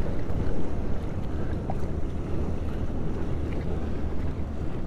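Wind of about 10 to 12 miles an hour rushes across a sailboat on Moriches Bay, a steady close roar buffeting the microphone with faint water wash beneath and no talking.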